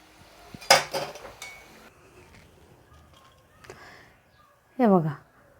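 Crispy vadas made from leftover rice clatter against a metal frying pan: one loud clanging knock, a few fainter clinks, and a brief voice near the end.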